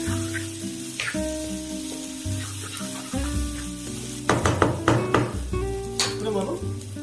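Onion and herb masala sizzles in a pan for a Punjabi-style potato and spinach curry, a steady frying hiss broken by scraping stirs and a few sharp clatters near the end, with no talking.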